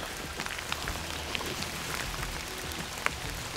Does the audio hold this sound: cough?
no